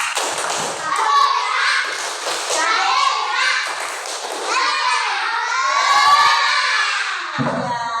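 A group of children claps in rhythm while chanting together loudly, their voices bright and close over the steady claps.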